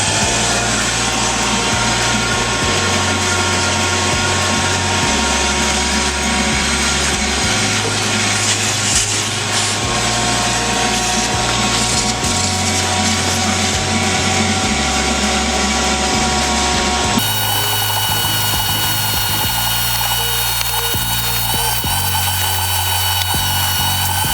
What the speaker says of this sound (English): the next step is to go ahead and vacuum